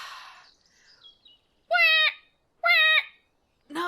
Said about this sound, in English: I'm just listening to some seagull noises to make sure